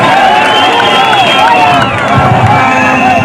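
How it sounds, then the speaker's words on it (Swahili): A large crowd at a political rally in Kitengela roars with loud, sustained cheering and clapping that fills the space without a break. "Jipigieni makofi."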